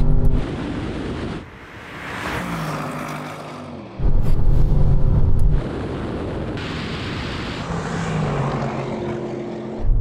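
Audi S8 and Audi RS6 accelerate hard side by side in a drag race, a loud roar buffeted by heavy wind noise, surging in two bursts, close to the microphone.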